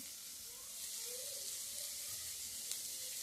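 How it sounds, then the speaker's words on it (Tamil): Mixed vegetables sauté with a soft, steady sizzle in a pan while a vegetable soup is being cooked, a faint continuous hiss with no talking. "வதக்கிக்கலாம்"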